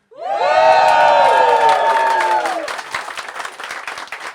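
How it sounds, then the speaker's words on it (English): Comedy club audience in Dublin erupts in loud cheering and whooping that sustains for a couple of seconds, then breaks into clapping that fades away. "we're going to do a cheer into clap"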